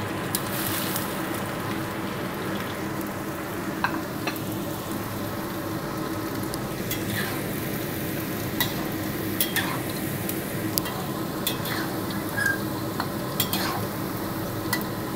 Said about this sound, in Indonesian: Kita goreng tempenya.